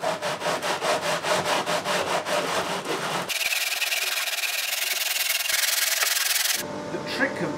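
Rhythmic back-and-forth sanding strokes on guitar sides for about three seconds, then a steady, continuous rasping scrape against a flat surface, close and fairly loud.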